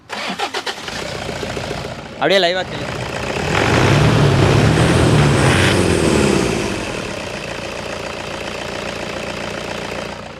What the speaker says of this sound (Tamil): இப்போ இன்ஜினோட நாய்ஸ் எப்படி இருக்குது அப்படின்னு சொல்லிட்டு லைவாக நம்ம வந்து கேட்கலாம் ஸ்டார்ட் பண்ணுங்கள்